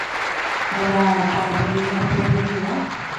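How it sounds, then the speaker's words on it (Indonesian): Applause from the audience at a regional organizational assembly in Jakarta, a steady wash of clapping lasting a few seconds, with a voice and some music-like tones running underneath. "Tepuk tangan buat beliau semua."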